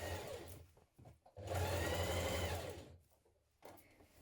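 A sewing machine stitches a 1 centimetre seam on a summer skirt set, running in short bursts and then one long steady whir, close and loud, with brief pauses between runs.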